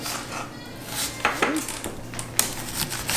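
A kitchen knife slices through an onion on a cutting board, giving a few sharp, close taps and scrapes spaced irregularly over a quiet background.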